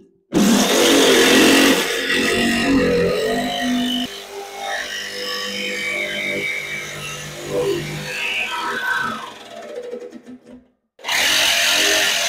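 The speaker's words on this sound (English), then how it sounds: "I decided I'm going to use a jigsaw instead of an angle cutter" A jigsaw cuts metal on a barrel stove at an Alaskan homestead, a loud, close, steady buzz that runs for about ten seconds with a shifting pitch, then stops briefly and starts up again.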